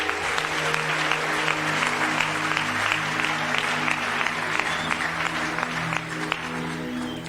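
A church congregation applauds together to acclaim the Lord during a prophetic service, sustained dense clapping at steady loudness for several seconds with a faint crowd murmur beneath.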